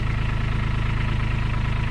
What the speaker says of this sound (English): we got the tractor warming up